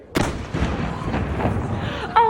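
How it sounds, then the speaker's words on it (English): A single cannon shot fired in Zagreb, Croatia, lands as one loud, sharp boom followed by a rumbling outdoor tail. A short whistle-like sound comes near the end. "We watched the cannon go off."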